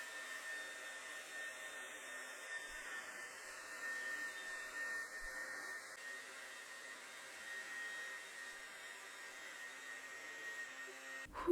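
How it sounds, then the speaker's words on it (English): A blow dryer runs on high while hair is straightened, a steady continuous whooshing hum held at even loudness with a faint shifting tone, alone without talk. "I do have my blow dryer on high because I'm trying to work through my hair as quick as possible."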